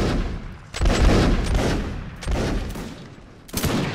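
Musket volleys fired on command by a line infantry regiment in the Mount and Musket video game, several loud crashing fusillades in quick succession, each rolling into a rumbling echo.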